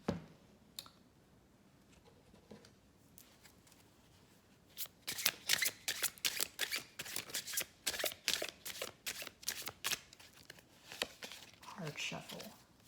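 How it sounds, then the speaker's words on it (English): Close shuffling of tarot cards in a quick burst of crisp riffles, after a few quiet taps and rustles, fading into softer handling. "Card shuffle."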